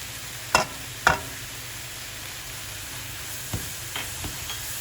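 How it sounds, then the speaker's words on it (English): Garlic sizzles in a hot pan while being stirred, a soft, continuous frying hiss broken by two sharp utensil knocks early on and a few lighter taps afterward. "Stir for 30 seconds"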